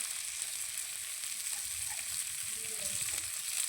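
Spices hiss and sizzle steadily in a hot pan with turmeric, salt and chili powder, a dense, even frying noise with faint stirring scrapes near the end, close up and without talk.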